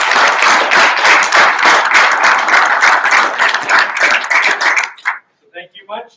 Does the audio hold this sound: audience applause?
yes